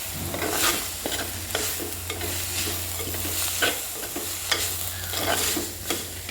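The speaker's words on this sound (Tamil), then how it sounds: "முருங்கைக்கீரையும் போட்டு நல்லா ஃப்ரை பண்ணணும்" Jackfruit seeds and drumstick leaves fry in a pan for a masala, a steady sizzle with repeated scraping stirs and clinks of a spatula, close and continuous without talk.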